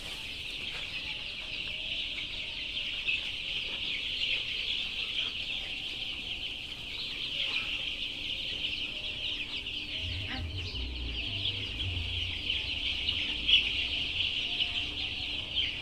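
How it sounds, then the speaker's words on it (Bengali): Chickens on a poultry farm cluck and murmur steadily under a constant high insect-like drone, with a low rumble near the end. "তো দেখেন মুরগিগুলা কি অবস্থা"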